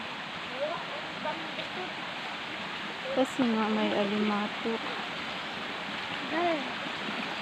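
A river flowing steadily through a rural field area, a continuous broadband wash of moving water heard close and even throughout, with a child's and adult's voices talking over it.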